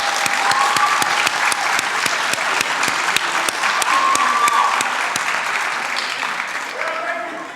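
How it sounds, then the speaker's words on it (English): Steady audience applause fills a room at a college spring honors night, dense and sustained throughout with a few cheers and scattered voices mixed in, tapering slightly near the end. "Let's give them a huge round of applause."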